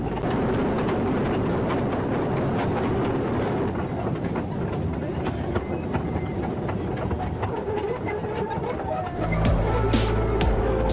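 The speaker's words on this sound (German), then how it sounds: "Der Zug passagiert einen ersten kleineren See." A miniature park railway train runs through Britzer Garten in Berlin, passing a small lake, with a steady clickety-clack and rolling rumble throughout, louder and close near the end.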